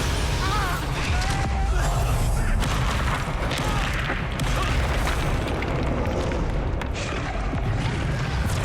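A Bombarda spell explosion in Hogwarts Legacy lands as a booming blast, buried in dense, continuous combat noise with rumbling effects and clatter, all loud and close throughout.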